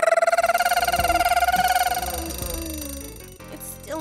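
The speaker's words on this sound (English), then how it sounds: "Turn off the alarm clock." A loud ringing bell tone, like an alarm clock, rings steadily for about two seconds, then fades under background music and scattered thumps as it tapers off.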